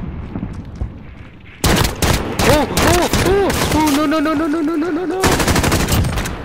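A minigun juggernaut in the game Modern Warfare fires in long, loud, rapid sustained bursts, with a whirring spin-up tone between them, after a brief quieter stretch; a voice speaks a single word early.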